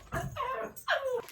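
A dog barking indoors, two short whiny barks close by in a quiet room with no talk.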